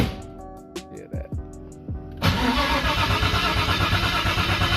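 Starter whirring in several short cranking bursts, then an RB25DET engine in a Nissan S14 catches on its first start with a sudden roar and runs loud and rough at steady speed.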